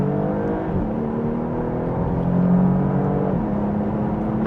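A 2025 Porsche Panamera pulls hard in second gear on a test drive, its engine note climbing steadily in a continuous rising drone heard from inside the cabin, loud and unbroken with road noise underneath.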